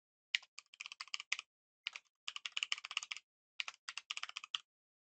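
Code being typed on a computer keyboard: close, crisp bursts of rapid key clicks in three runs separated by short pauses, with no talking.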